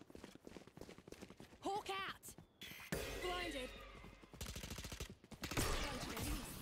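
Video game gunfire pops in rapid bursts and scattered single shots, with glassy shattering hits, fairly faint under someone talking and game sounds.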